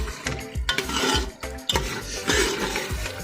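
Yogurt is stirred into a meat curry base in a pot, before turnips are added: repeated close scraping strokes of a spoon against the pot bottom over a steady sizzle, in a loose rhythm with no talking.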